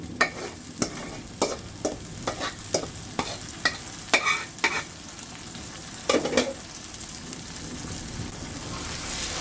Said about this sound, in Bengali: এখন এই পেঁয়াজ ভাজার মধ্যে আমি সবটুকু বট দিয়ে দিব